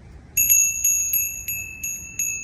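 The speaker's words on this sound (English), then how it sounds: "Mike, who's getting ready to do the PCT, mailed me out a bear bell" A small metal bear bell for hiking rings several times in quick, uneven jingles, each strike bright and clear with a short shimmering decay over quiet background.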